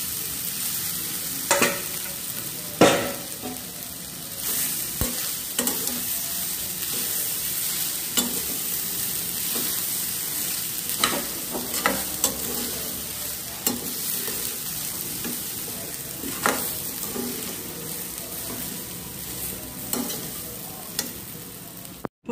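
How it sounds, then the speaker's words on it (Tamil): Cooked rice tossed with sautéed gooseberry (amla) in a hot pan, a steady soft sizzle under periodic scraping stirs and occasional spoon knocks, with no talking. "இப்போ நெல்லிக்காயில் சாதத்தை போட்டு கலந்தாச்சு."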